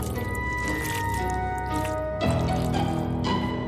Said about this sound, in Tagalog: Tumutulo pa ang dugo nito.